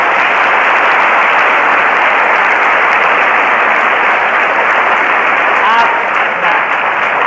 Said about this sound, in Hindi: टीचर के नाम की ताली बजाओ पहले